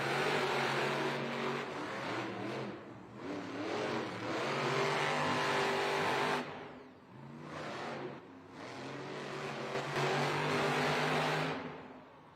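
Monster truck engines revving hard at the starting line of an arena Monster Jam racing event, with loud, sustained roaring bursts that rise, dip briefly and surge again, and no voices heard.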